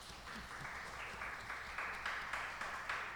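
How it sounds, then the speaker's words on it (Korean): A church congregation claps in celebration at a Korean service, a soft, steady patter of many hands sounding somewhat distant and muted, sustained throughout without voices on top. "축하 박수 한번 할까요?"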